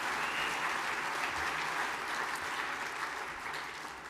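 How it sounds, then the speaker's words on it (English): A convention audience applauds warmly in a large hall, many hands clapping in a dense, even roar that slowly tapers toward the end, with no voices over it. "Let's give them another round of applause."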